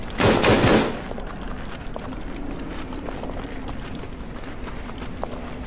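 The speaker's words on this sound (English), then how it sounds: "Switch back to the Chauchat. Lay down some more machine gun fire." A Chauchat light machine gun fires in the World War I shooter game Verdun: a loud, dense burst lasting under a second, then a steady din of distant battlefield noise.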